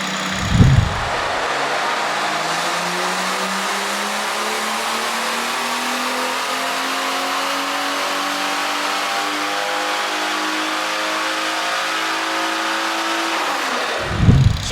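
A tuned BMW M140i with a big turbo revs hard under load on a dyno, the engine note climbing steadily for over ten seconds, loud and close, with short bursts at start and end.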